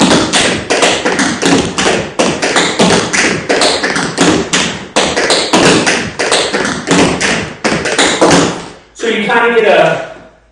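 Tap dancer's rolling pullback steps with a hand-slap variation, a long run of loud, rapid metallic taps and clicks in tight rhythmic bursts, followed by a brief scuffing flurry at the end.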